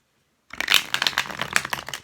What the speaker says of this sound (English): one more shuffle and then we'll get going